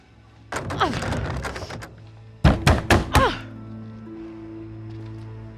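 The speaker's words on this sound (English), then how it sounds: "I can hear you banging on the door." Someone bangs on a door in the Little Hope video game: a cluster of knocks, then four loud, heavy thuds close by, with quiet ambient drone underneath.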